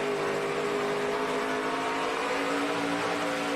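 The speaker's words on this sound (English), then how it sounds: "Listen to him feather that throttle." A stock car engine at a Carolina 200 race, a steady loud whine with tonal harmonics as the driver feathers the throttle, the pitch holding fairly level and dipping slightly, continuous without a break.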